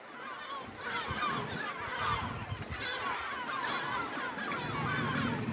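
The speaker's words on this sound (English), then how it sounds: "Wow, look at all those gulls." A dense flock of gulls crowds a small island off the coast near Dalyan, heard from a fishing boat as a steady, overlapping chorus of calls over wind and water.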